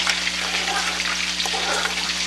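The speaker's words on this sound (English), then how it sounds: "And then I got the bacon over here sizzling." Bacon sizzling in a pan while chili cooks nearby, a loud, dense, steady crackling hiss that fills the whole moment without pause.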